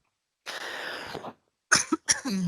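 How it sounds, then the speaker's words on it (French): A close, fairly quiet cough is followed after a pause by a short cluster of rougher coughs and throat noises, with no speech. "ça j'ai envie de tousser"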